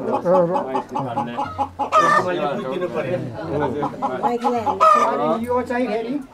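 At a Nepali wedding, a rooster gift crows loudly and close by, twice in a few seconds, over cackling and clucking, while people talk throughout.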